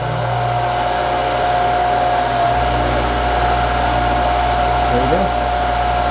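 An Arbe buffing polisher motor, newly assembled for metalsmithing, hums steadily at close range with a constant whirring drone, while a voice speaks briefly over it.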